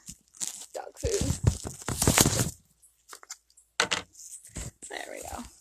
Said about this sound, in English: I'm just gonna put you guys down for a second so I can open the dog food